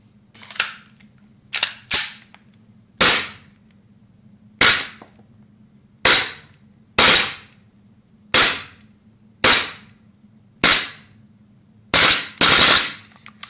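A Poseidon Orion 2 gel blaster fires sharp, close, loud shots spaced through the recording, some landing as quick doubled pairs, each a crisp snap with a short decay over a low steady hum.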